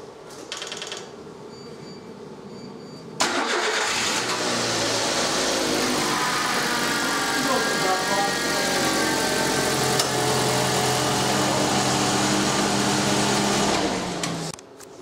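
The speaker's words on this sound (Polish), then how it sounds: "Szymon, mógłbyś odpalić silnik?" A car engine in a service workshop starts up and settles into a steady, continuous idle with a mechanical whir, heard close and alone for most of the stretch before cutting off near the end.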